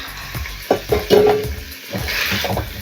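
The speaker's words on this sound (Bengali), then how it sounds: "ক্যাপসিকাম ধনে পাতা পেঁয়াজ গাজর কাঁচা লঙ্কা এর সাথে জাস্ট একটু ফ্রাই করব" Capsicum, coriander leaves, onion, carrot and green chili are lightly fried for a chicken sandwich filling, loud close scraping stirs in an irregular rhythm over a soft sizzle, with no talking.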